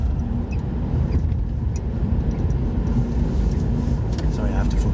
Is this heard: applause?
no